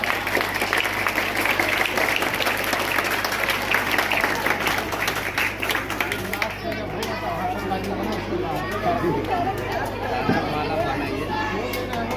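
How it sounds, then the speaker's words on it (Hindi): Applause at a school farewell ceremony honouring a retiring headmaster, loud crowd clapping for about six seconds, then tapering into murmuring voices and babble over a steady electrical hum. "तालियां बजती रहनी चाहिए"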